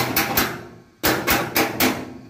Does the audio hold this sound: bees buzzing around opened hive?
no